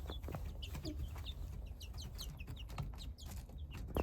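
Chickens in a backyard coop cluck and chirp softly in a busy, overlapping chatter, faint and close, with no one talking.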